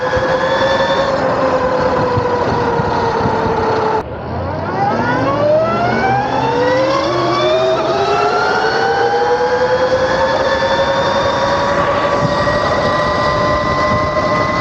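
Cheap Alibaba electric dirt bike with a speed mod, its throttle set to sport, giving a loud motor whine that climbs in pitch. The whine drops back and then rises again as it accelerates, with no talk over it.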